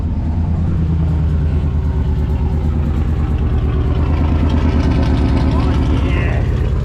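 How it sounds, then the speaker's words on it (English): A Chevrolet Suburban engine idles steadily up close after an exhaust leak repair, a deep even rumble with a regular low throb and no other sounds. "We fixed the exhaust leak on the Suburban."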